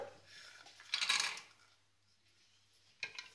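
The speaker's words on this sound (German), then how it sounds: "Wenn Oil heiß genug ist, geben Sie Cashewkerne." Cashew nuts tumble into hot oil in a pan with a quick clattering rattle, fading into quiet and followed later by a second shorter clatter.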